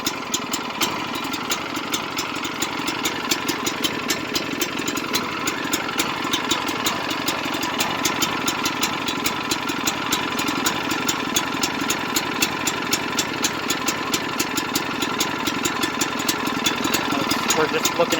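A trencher engine idles steadily at close range while its throttle is adjusted, a continuous rapid ticking drone with regular mechanical clicks throughout.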